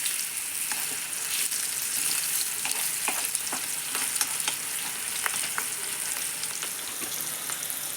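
Stuffed bitter gourd with masala fries in hot oil with a steady, close, loud sizzle, while stirring adds scattered crackles and pops.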